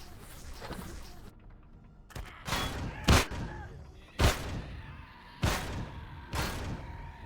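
Gunfire from the Empyrion video game: a burst of shots, then five loud, separate gunshot blasts spaced about a second apart, each with a sharp crack and a short decaying tail, with no talk over them.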